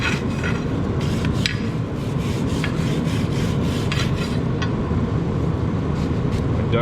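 A brush scrubs burnt crud off a metal rod in continuous, loud rasping strokes with a steady rhythm, on a Minneapolis Moline tractor project; no voices are heard.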